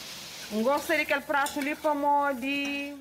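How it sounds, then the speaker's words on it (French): Tomatoes sizzle and are stirred in a hot pan while being cooked into a sauce for a Cape Verdean dish; a steady frying hiss runs beneath a voice that speaks over most of the moment. "Je vais cuire les tomates pour en faire une sorte de sauce."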